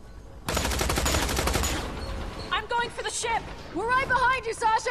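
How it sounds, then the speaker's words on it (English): A gunfire shootout in the Tales from the Borderlands video game: a rapid burst of automatic shots for about a second and a half, followed by a person speaking excitedly over the quieter game sound. "Oh, she got shot as well. Oh wow. Shoot out."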